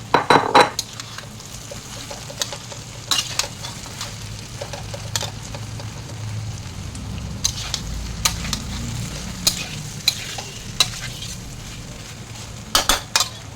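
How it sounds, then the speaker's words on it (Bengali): Pointed gourd (potol) goes into spiced masala in a pan, sizzling steadily while a utensil stirs and clinks against the cookware now and then. "মশলাটা কষানো হয়ে গেছে, এবারে পটলগুলো দিয়ে দিলাম।"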